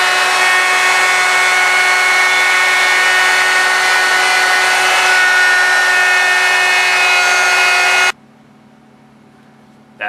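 A power drill bores holes in a wooden air hockey table top, whining loudly and steadily for about eight seconds before cutting off, leaving quiet room tone.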